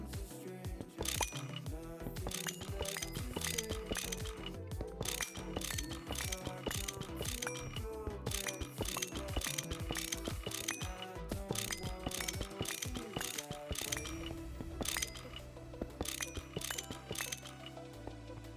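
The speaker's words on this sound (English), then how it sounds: "I'm gonna need another wrench." Rapid, continuous mechanical ratcheting of a wrench in GT New Horizons, dense rhythmic clicking pawl sounds repeating steadily for the whole stretch, loud and close.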